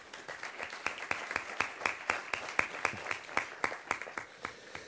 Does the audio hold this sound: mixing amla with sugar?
no